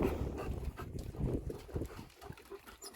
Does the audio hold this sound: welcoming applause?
no